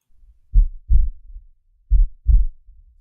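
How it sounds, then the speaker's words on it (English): A heartbeat sound effect gives two deep, muffled double thumps, lub-dub pairs spaced by a short silence, loud and isolated with nothing else around them. "Give me the heartbeat."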